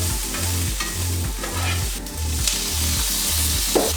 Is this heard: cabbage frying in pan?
yes